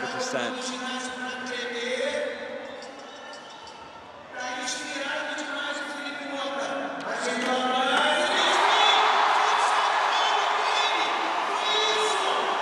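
Crowd cheers and shouts swell at a street-league skateboarding contest in São Paulo, rising louder toward the end beneath steady commentary from announcers.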